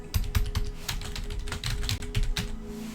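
Computer keyboard typing during a Pathfinder: Kingmaker game session, a quick irregular run of close, crisp keystroke clicks that continues steadily throughout with no talking.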